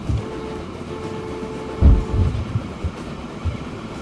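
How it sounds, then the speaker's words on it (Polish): A train rolls along newly built track in the Transport Fever video game, a steady rumbling run with a few heavier low thumps, constant and fairly loud with no talk. "Pięknie pociąg wjeżdża na tor kawy i jedzie."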